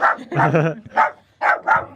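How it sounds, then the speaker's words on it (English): A dog, Shredder, barks several times in a few short bursts, close and fairly loud, with no talk over it. "You had to start barking."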